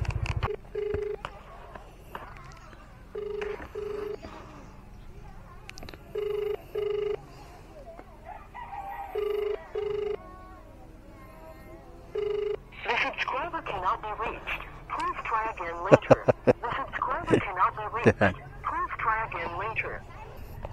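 A telephone call is dialed and rings out for a delivery service in Naga City: repeated short, evenly spaced ringback tones over a quiet line, followed by people talking over the phone.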